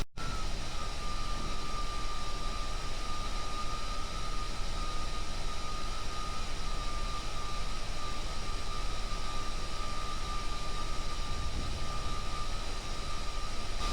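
Ore-laden aircraft in the Kerbal Space Program game speeding down a runway, a steady loud engine drone with a high whine held throughout, no talking.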